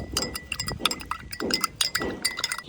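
A spoon clinking against a glass while stirring sugar into a drink, rapid repeated bright metallic chinks in a steady rhythm, close and clear.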